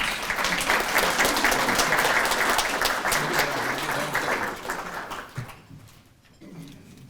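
An audience at a school district's distinguished alumni celebration breaks into sustained applause welcoming a speaker, clapping steadily for several seconds before it dies away near the end.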